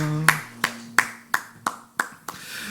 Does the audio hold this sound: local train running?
no